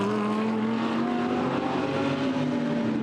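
A Lamborghini GT race car at the Budapest sprint race screams past at full throttle, its steady high-pitched engine note dropping slightly in pitch as it crosses the start-finish line, loud and continuous with no talk.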